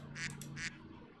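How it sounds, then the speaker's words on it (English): Two or three duck quacks inserted as a sound effect, loud and close, in quick succession and then fading into quiet room tone. "I'll just insert some duck noises."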